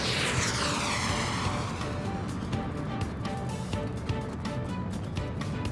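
Fighter jets and bombers roar in the aerial combat game Ace Combat 7, a loud sustained engine drone with a sweeping flyby at the start and scattered sharp bursts throughout.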